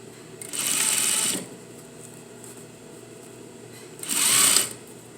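Sewing machine stitching a seam on jeans, two separate bursts of fast mechanical whirring, each about a second long, with quiet room tone between.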